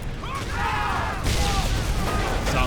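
Gunfire crackles in a Band of Brothers video game, a loud ragged volley of shots with booming rumble beneath it that runs steadily through the moment.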